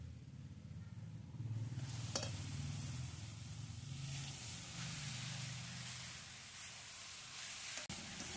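Carrot halwa with milk and freshly added ghee is stirred in a pan under a soft, continuous hiss of cooking. A spoon scrapes now and then, and a sharp tap sounds near the end, all quiet and close.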